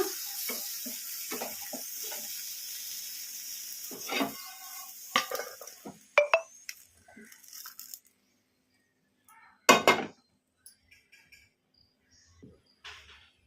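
Fried okra sizzles faintly in a hot kadai while a spatula stirs it, then scattered scrapes and metallic clinks follow as it is moved onto a plate, all close and without talking.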